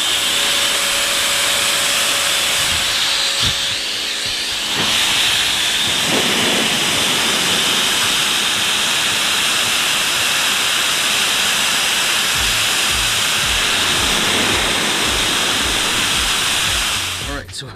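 Pet dryer blower blasting hot air onto a car panel, a loud, continuous roaring hiss that holds steady throughout, with small shifts in tone as the nozzle moves.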